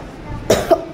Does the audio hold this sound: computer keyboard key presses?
no